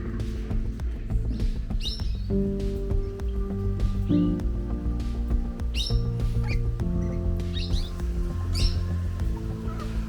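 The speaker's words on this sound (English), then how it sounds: "The birds are certainly colourful and noisy" Several colourful zoo birds in Adelaide, Australia chirp and call in sharp bursts over a constant droning, tonal background, busy and noisy throughout.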